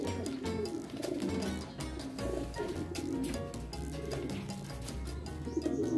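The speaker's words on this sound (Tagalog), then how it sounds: "Ayan mga kalapatids, umuwi na." Racing pigeons back home after a race from Allen, Samar, cooing softly and repeatedly in a loft, several birds murmuring together at close range with steady low background noise.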